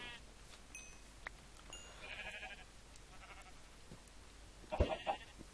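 Sheep bleating in Minecraft, a few short bleats spread across the clip, the clearest and loudest one near the end, over quiet game ambience.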